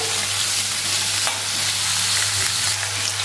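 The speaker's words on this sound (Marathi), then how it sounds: "व्यवस्थित हे सर्व तेलावरती परतून घेऊया" Drumstick pieces and potato sauté in hot oil for a Maharashtrian shevga batata bhaji, giving a steady close sizzle with a low hum underneath and a single scrape of the spoon midway.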